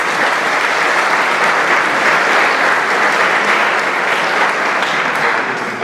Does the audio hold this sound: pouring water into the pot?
no